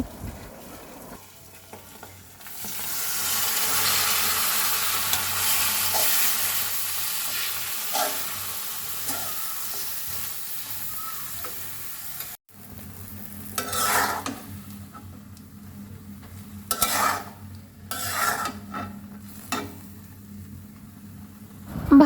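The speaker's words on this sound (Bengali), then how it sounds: "এখন আমি এর মধ্যে এই ডাটা আর পেঁয়াজ মরিচগুলো একসাথে দিয়ে দেবো" Vegetable stems, onions and chilies hit a pan with frying egg and stir-fry there, first a loud, steady sizzle, then a quieter crackle broken by several sharp bursts of stirring and scraping.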